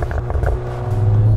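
A VW Golf 7.5 R revs nearby with its popping exhaust, a loud, steady engine drone carrying crackling bursts early on and building in intensity toward the end.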